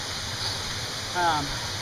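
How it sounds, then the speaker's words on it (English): A waterfall's steady, broad rush of falling water fills the background, with a brief voice rising faintly over the constant roar. "hopefully you can hear me alright over the waterfall"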